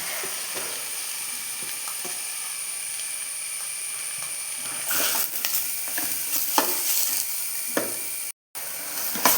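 Three quarters of a kilo of chopped onions hit a pan of frying ginger and garlic, the sizzle swelling into a loud hiss, then stirred with scraping and clinks under steady frying.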